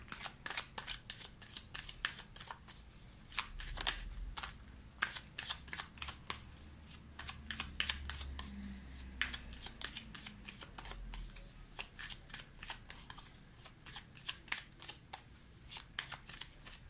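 A deck of oracle cards is shuffled by hand close up, giving a continuous run of quick, crisp riffling flicks and snaps with brief pauses. No talk is heard over the shuffling.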